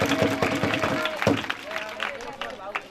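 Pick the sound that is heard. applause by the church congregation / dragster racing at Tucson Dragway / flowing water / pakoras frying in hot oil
applause by the church congregation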